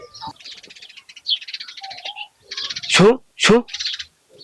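Small birds chirp in quick, repeated bursts around their nests in a village setting. People talk loudly over them in the middle of the clip.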